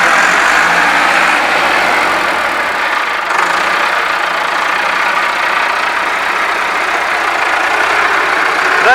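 Massey Ferguson 375 tractor engine at work knocking down a mud wall, a steady loud diesel drone that holds constant for the whole stretch with no speech over it.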